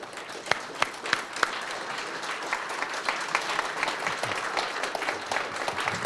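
Applause from an audience at a Black History Month celebration in Delaware County, honoring Dr. Monica Taylor: a thin, scattered patter of claps with a few sharp louder claps near the start, staying fairly quiet and steady throughout.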